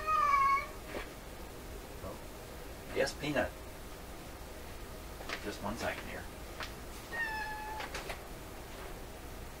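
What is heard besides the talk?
cat meowing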